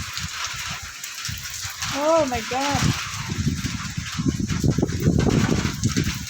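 Rain begins to fall amid strong wind gusting through surrounding trees, a broad steady rush that builds and thickens over the seconds, while a person exclaims in alarm partway through.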